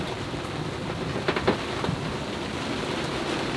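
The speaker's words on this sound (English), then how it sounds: "We're in the middle of a thunder and lightning storm." Out on the open ocean aboard a sailboat, rain and gale-force wind of about 42 knots roar in a steady, loud wash during a thunderstorm, with a few brief knocks partway through.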